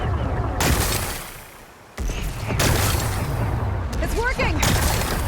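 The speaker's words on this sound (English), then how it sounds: "Gotta blast away some rocks." Explosive blasts break apart rocks in Horizon Forbidden West, several heavy booms and rumbling bursts following one another with crackling debris, fairly loud and close, with game dialogue alongside.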